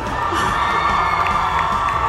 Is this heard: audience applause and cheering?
yes